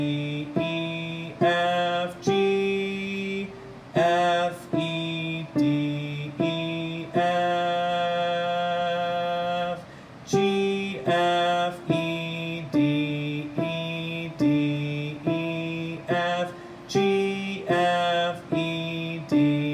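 A piano plays a simple right-hand melody of the happy song, each note struck clearly and left to ring in an even beat, with some notes held longer, alone and close with no voices.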